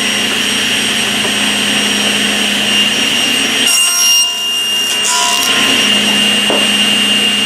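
A table saw rips through wood for shop storage, with a loud steady roar of blade and motor the whole time. The pitch dips briefly midway as the cut loads and then clears.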